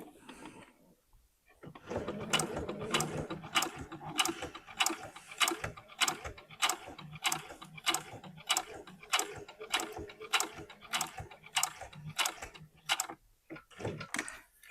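A sewing machine slowly stitching a knit sleeve, needle passing over pins, giving a steady run of rhythmic mechanical clicks after a short quiet start, close and alone.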